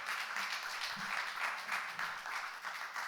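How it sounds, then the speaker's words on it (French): A congregation applauds during a Sunday church service, a steady wash of clapping that holds at an even, moderate level for about three seconds. "J'aimerais entendre un grand applaudissement."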